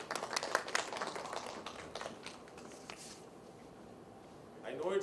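Applause from an afternoon audience at a real estate investment fund event: a thin, scattered patter of hand claps that fades out, with a voice rising at the very end.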